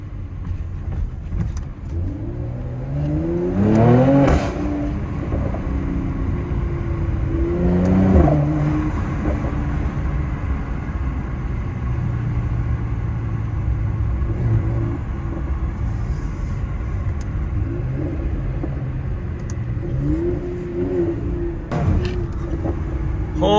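A 600 HP Mercedes C43 AMG accelerates hard at speed, its engine note sweeping up through repeated gear pulls with a loud, rumbling exhaust, the rising bursts recurring over a steady road roar, heard from inside the car.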